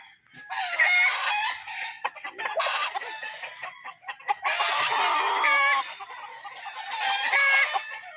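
Roosters at a Filipino gamefowl farm, including a broodcock, crow and cluck in several long loud bursts close by, overlapping calls filling most of the stretch with short gaps between.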